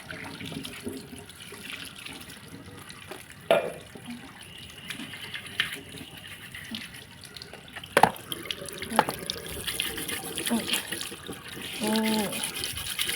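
Tap water runs into a sink while kaffir limes are scrubbed with an old toothbrush, giving close splashing and scratchy brushing with occasional knocks and a voice talking faintly underneath.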